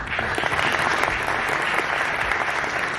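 An audience at a film screening applauds steadily and loudly, a dense, continuous wash of clapping from a crowd in a hall, with no talking over it.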